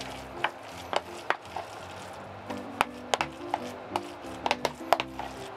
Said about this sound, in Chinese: 尽量将佢搅匀去啦。